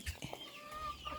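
Chickens cluck on a farm, a short run of close clucks and fowl calls over low background noise, with no talk.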